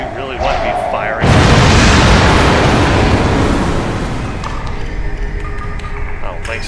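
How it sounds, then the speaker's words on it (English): Weapon fire blasting supply crates in Star Trek Online, a sudden heavy impact swelling into a long rumbling explosion that slowly fades, with someone talking over it. "So we have to destroy these crates and find the bombs."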